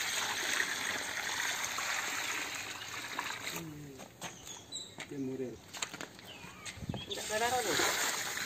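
Water poured onto the soil around a newly planted mango sapling gives a splashing trickle that fades and then returns, with birds chirping nearby and people talking over it.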